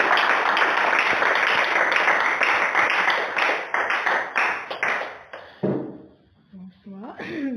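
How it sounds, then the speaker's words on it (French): A church congregation applauds a mother after her testimony, dense clapping that thins out into scattered claps and then stops as a voice begins speaking. "Applaudissez pour la maman."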